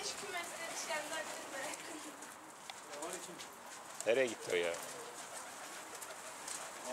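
A pigeon coos in short throaty bursts near the middle, with softer bird calls around it, while someone speaks Turkish close by.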